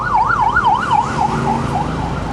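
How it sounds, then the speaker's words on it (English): An ambulance siren wails loud and close in a steady rising-and-falling yelp, passing traffic beneath it, at a motorcycle crash scene on the island of Koh Lanta. "Ambulance coupled with a motorcycle."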